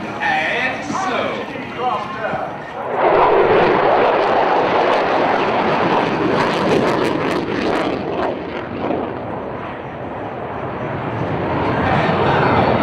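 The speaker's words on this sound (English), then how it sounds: "feel the flow of the F-16s as they muscle glide in full afterburn" Singaporean F-16 fighter jets pass low in full afterburner, a loud continuous roaring rush that swells and holds for several seconds, with crowd voices underneath.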